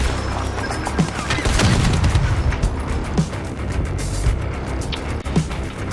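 A thrown grenade explodes in the zombie game Dying Light, heard as a dense burst of booming blasts and crackling gunfire-like impacts, loud and continuous over several seconds with sharp peaks near the start and middle.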